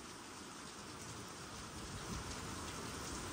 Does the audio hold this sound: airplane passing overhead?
no